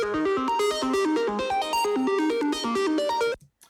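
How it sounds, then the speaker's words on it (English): A rapid synth arpeggio ripples through quick stepped notes in a steady, bright pattern before cutting off abruptly. "this ARP synth part here"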